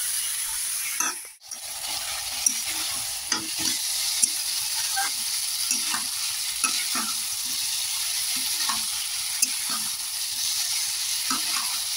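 Pumpkin and mixed winter vegetables fry in a pan with a steady, close sizzle, broken by regular scraping stirs of a spoon against the pan. No one speaks.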